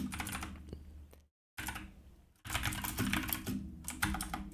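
Close, steady clatter of fingers typing on a computer keyboard, dense bursts of keystrokes broken by a couple of brief silent gaps, with no talking.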